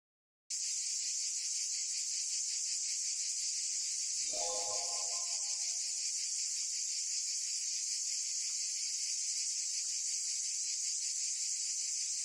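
Crickets chirping from a ten-hour recording played back: a constant high, dense chirring drone that starts abruptly and runs steadily throughout, with a brief low rustling bump partway through and no talking.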